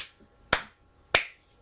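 Two sharp, close hand claps spaced about half a second apart, each a crisp isolated smack with a brief decay, with quiet room silence between them.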